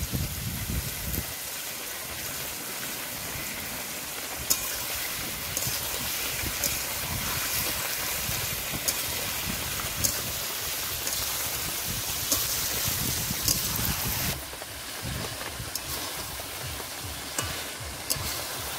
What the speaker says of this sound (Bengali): এবার মাংসগুলো কিছুক্ষণ ভেজে নেব। এবার উপর দিয়ে দেব টমেটো কুচি।